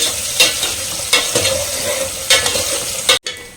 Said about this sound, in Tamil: ஆனியனை சேர்த்துட்டு நல்லா வெங்காயம் வதங்கட்டுங்க